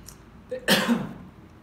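A single harsh cough or throat-clearing burst from a man with a cold-weather cough, close and fairly loud, fading out quickly into quiet.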